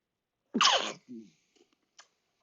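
A single sharp, close sneeze bursts out, followed by a short breathy exhale and faint small noises in otherwise quiet surroundings.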